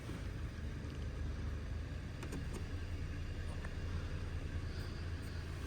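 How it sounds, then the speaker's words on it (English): A 2023 Volkswagen Tiguan engine idles with a steady low rumble and faint hiss, continuous and close, with a couple of brief clicks partway through. "The engine's running."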